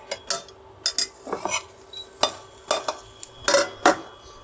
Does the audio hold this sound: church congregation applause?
no